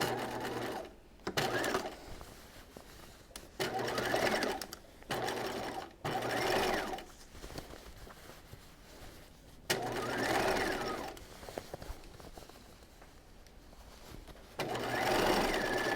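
A sewing machine understitches the facing on a dress, running in a series of short stop-start bursts of rapid whirring stitches, each a few seconds long, with quieter gaps of fabric handling between them.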